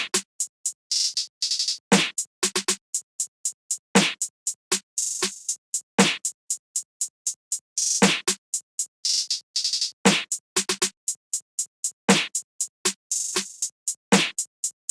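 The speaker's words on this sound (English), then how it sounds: "laid down this pretty simple snare pattern" A simple programmed snare pattern from a drum kit in a dark trap beat plays alone: quick, tight snare hits fire in rapid runs and rolls, with stronger accented hits about every two seconds, loud and steady throughout.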